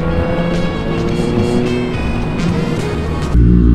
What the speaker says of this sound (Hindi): इतना ज़्यादा ट्रैफिक हो चुका बिल्कुल थकाने वाला